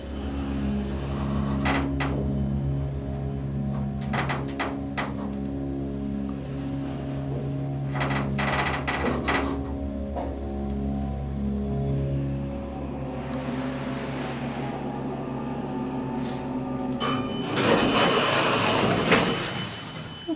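A General (Hartford) hydraulic elevator in a Stamford, Connecticut building, rated 2,300 capacity at 200 feet per minute, hums with a steady low motor drone, with scattered clunks and a rising whirring noise near the end.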